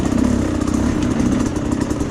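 A dirt bike engine runs steadily on a trail, a loud, dense mechanical roar that holds fairly even with slight rises and falls in revs, close to the listener.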